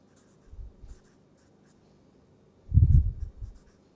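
Chalk or marker writing a chemistry lecture on a board, a short scratchy stroke early on, then a quiet gap, then a longer, louder run of strokes near the end, with no talking.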